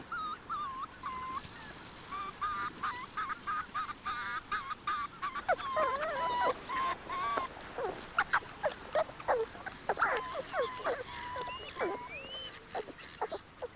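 A red fox vixen in the Russian taiga growling at a male fox, with repeated harsh, wavering calls that grow louder and more frequent, heard alone against faint background noise.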